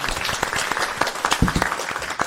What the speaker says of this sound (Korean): 네, 박수 한 번 주세요.